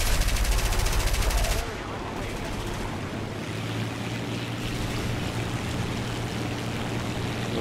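Aircraft machine gun fire from an I-15 fighter in the War Thunder video game, a loud rapid rattling burst that stops abruptly after about a second and a half, then gives way to a steady engine drone.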